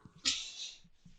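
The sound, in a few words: sneeze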